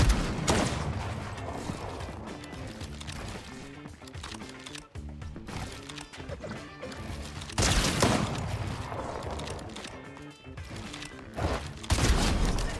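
Loud, dense shotgun blasts from a first-person shooter, firing in quick bursts over a busy game soundtrack, with heavy booming hits recurring throughout and the sharpest volleys near the start, middle and end.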